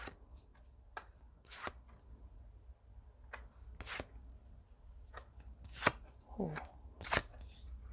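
Tarot cards being shuffled and drawn at a reading table, with soft riffling and sharp slapping bursts coming every second or so, close and quiet, with no talking.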